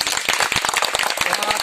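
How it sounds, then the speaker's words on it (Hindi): A crowd applauding at a political gathering for a former legislator, dense close clapping that continues steadily and loudly throughout. "तालियां बज रही हैं"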